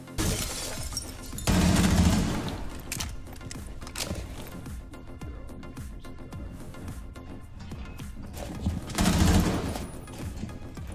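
Gunfire in the tactical shooter game Rainbow Six Siege: loud bursts of shots near the start and again near the end, with quieter game sounds and scattered impacts in between.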